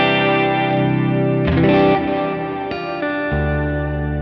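Electric guitar played through a Chase Bliss Meris CXM 1978 reverb pedal, sustained chords blooming into a lush, shimmering wash with a few fresh strums about a second apart, loud and close.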